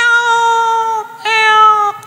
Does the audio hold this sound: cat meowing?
yes